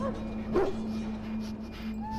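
A dog in the video game Dragon Age Origins whimpers and yips, a brief high cry early over a steady hum, with a faint second whine at the end.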